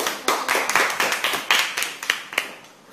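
Students in a classroom clap for their classmates, a dense round of hand claps with sharp repeated beats running steadily for about three seconds before fading at the end.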